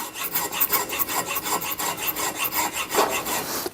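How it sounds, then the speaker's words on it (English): A hand file rasps back and forth across wood in a steady, close rhythm of about a dozen strokes, loud and clear with no talking. "I'm just going to file this real quick, hit it with some sandpaper"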